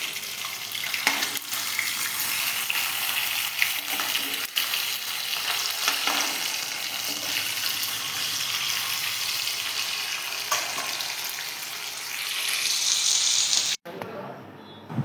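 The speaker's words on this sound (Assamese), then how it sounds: "এয়া দেখিছে মাছ ভাজি আছোঁ।" Pieces of rohu fish fry in hot oil in a pan, giving a loud, dense, continuous sizzle. It runs for the whole stretch and swells louder just before an abrupt cutoff near the end.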